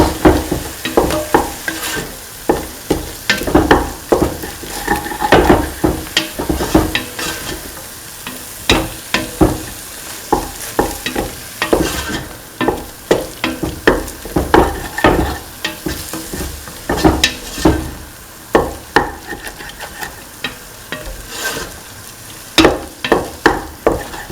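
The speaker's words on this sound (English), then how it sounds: "the eggs and salt and scramble the eggs for around 4 to 5 minutes" Eggs and salt being scrambled in a hot pan, with a steady sizzle under rhythmic scraping and tapping of a spatula that repeats over and over, close and loud with no talking.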